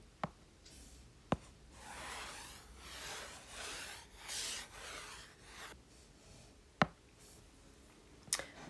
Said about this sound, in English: going to erase all this.